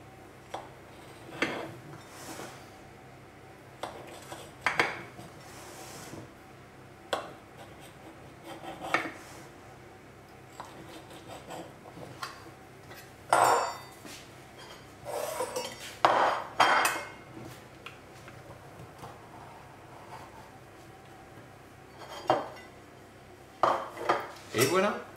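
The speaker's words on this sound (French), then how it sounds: "On va découper une part." A cooled apricot clafoutis is cut into a slice, with close, scattered clinks and scrapes of cutlery against a dish, some in quick clusters, over a quiet kitchen background.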